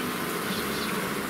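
Honey bees buzzing at a beehive in an apiary, a dense steady hum that stays close and even throughout with no pauses or talking.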